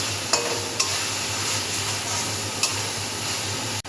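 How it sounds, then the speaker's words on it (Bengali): Spice paste with garlic and chili stir-fried for mutton biryani, a steady close sizzle with a few sharp scrapes of the spoon against the pan. "মশলাটা ভালো করে কষিয়ে নিতে হবে"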